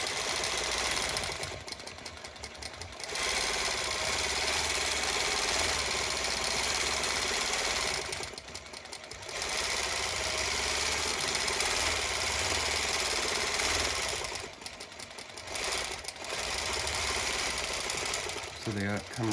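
A longarm quilting machine stitches a pebble pattern, a steady, fast mechanical whirring that runs in long bursts, stops briefly between them and resumes.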